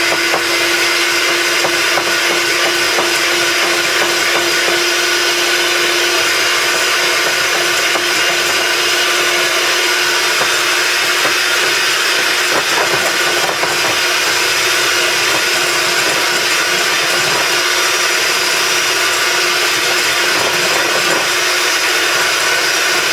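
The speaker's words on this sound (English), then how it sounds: "I can continue mixing my egg whites." An electric mixer whipping frothy egg whites for gluten-free coconut macaroon meringue cookies, a loud continuous motor whine with a steady hum and faint beater rattle running unbroken throughout, with no talking.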